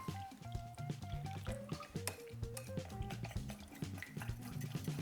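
Water drips and splashes quietly in irregular little plops as it is mixed with potato starch for cooking gyoza, faint and close, with no talking.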